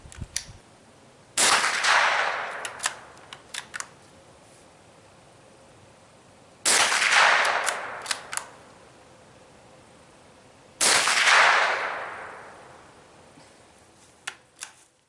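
Three bursts from a Mossberg 802 Plinkster rifle firing at a clay target outdoors, each shot a sharp crack trailing into a broad hissy decay, spaced a few seconds apart with small clicks and handling noises between them.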